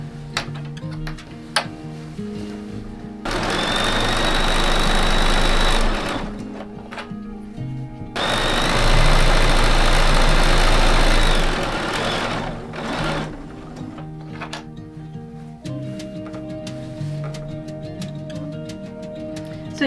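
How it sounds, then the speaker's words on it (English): A sewing machine stitches a quilt border in two long, loud runs of steady mechanical whirring and ticking, with quieter handling clicks and fabric shuffling between and around them. "now we're just going to flip it over and sew the other side."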